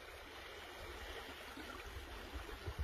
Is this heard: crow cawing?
no